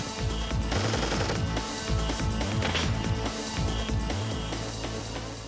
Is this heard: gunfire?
yes